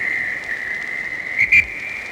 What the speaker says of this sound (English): The whistle goes.